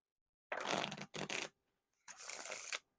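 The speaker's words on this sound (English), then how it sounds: "the riffle shuffles and bridge shuffles are super smooth there and really fun to do with these" Sharks playing cards by DMC are riffle shuffled close up in three quick, quiet bursts of fluttering card edges, separated by short silences.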